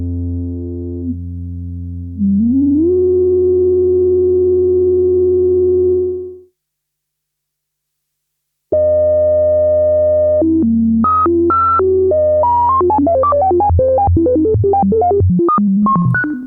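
Odyssey synthesizer plays a steady tone that bends upward, falls silent, then returns with sample and hold effect stepping through rapid random pitches, loud, with no voices.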